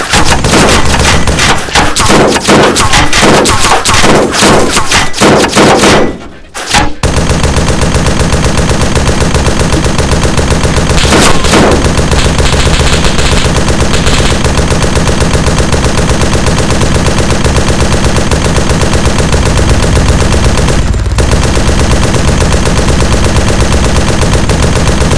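Sustained loud gunfire from the Arma 3 combat game, dense bursts of automatic shots crackling continuously with a brief dropout near the start and scattered heavier booms, no talk.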